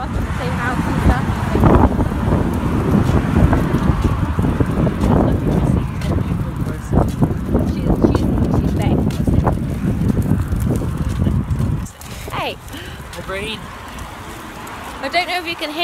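Outdoor wind buffeting a microphone, heavy low rumbling gusts that roar under a person talking for most of the stretch, then easing and thinning near the end.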